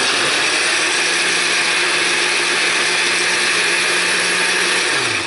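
An electric blender runs steadily, chopping black cherries with liquid into a sludgy puree for winemaking, its motor whirring loud and constant until it winds down at the end.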